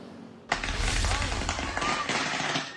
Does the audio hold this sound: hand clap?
no